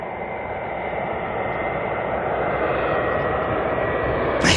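Air New Zealand Airbus A321neo airliner, flight NZ188 from the Gold Coast, arriving at Auckland at night: a steady, loud, broadband jet roar that holds level throughout, with a brief sharper burst at the very end.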